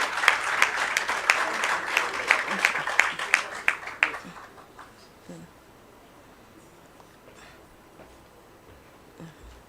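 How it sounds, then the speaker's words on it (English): Applause at a ceremony where learners are recognised: a dense burst of many hands clapping for about four seconds, then quickly dying away to faint scattered claps and low room murmur. "A round of applause, please."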